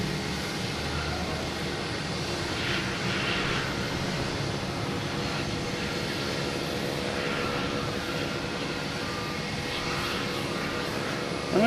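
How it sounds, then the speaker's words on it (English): A Delta Airbus A321neo jet at Boston Logan Airport, bound for Salt Lake City, gives a steady, moderately distant broadband engine roar that holds level throughout, with no talking. "We have a Delta heading to Salt Lake City. Flight 445 and A321neo."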